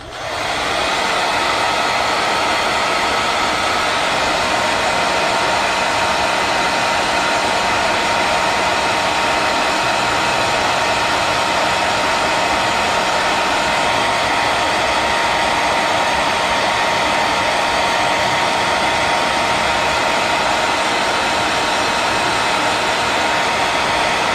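Hot air blower heating a decal on a 1/24 scale Bugatti Chiron Sport model car kit, a loud continuous close rushing whoosh with a steady motor whine, unbroken throughout with no talk.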